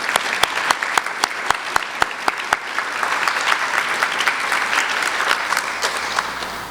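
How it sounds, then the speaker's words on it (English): An audience at a middle school closing ceremony applauds, with a few loud, crisp nearby claps punctuating a steady wash of crowd clapping that continues evenly to the end. "Please join me in a round of applause for these outstanding scholars."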